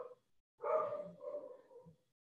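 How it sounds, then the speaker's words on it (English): A pet dog barks at someone at the door, a faint, somewhat distant indoor bark with a drawn-out, whining tail lasting about a second and a half, heard alone. "She's barking at someone at the door."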